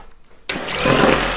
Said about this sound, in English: I'm just going to give these a good whisk up.